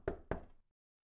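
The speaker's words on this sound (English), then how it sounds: "Later that day, Cinderella was cleaning her stepfamily's house when she heard the knock on the door." Two sharp knocks on a door in the Arthur's Puppet Theater video game, during a Cinderella story, close and clear with a short gap between them, then silence.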